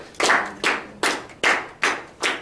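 Six crisp hand claps in an even, steady rhythm, close by, with no talking between them.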